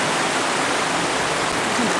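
Water rushes steadily through the Subway slot canyon in Zion, a continuous, loud broadband roar with no breaks and no voices.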